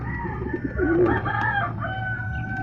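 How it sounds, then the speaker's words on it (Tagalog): Pigeons coo softly with low, rolling calls, while other birds chirp and squawk nearby in a steady background of bird noise. "Yan ang mga kalapatids yung ibon natin"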